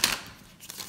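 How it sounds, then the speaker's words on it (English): A deck of tarot cards being shuffled, a brief papery riffle burst at the start followed by softer card rustling, close and alone with no talk. "One more shuffle, and then we're gonna cut"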